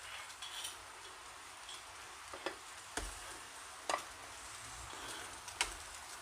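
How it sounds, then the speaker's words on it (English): Red curry paste is stirred into coconut milk in a pan, a soft low simmering hiss broken by a few quiet, sharp taps and scrapes of a utensil against the pan at irregular intervals. "And just give it a stir around. And let the curry paste just break up into the milk."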